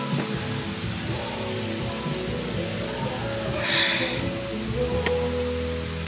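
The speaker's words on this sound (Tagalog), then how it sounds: "ayan na po yung ulan" Rain begins falling outdoors, a steady dense patter of drops on surfaces, fairly loud and continuous, with a brief heavier splash partway through.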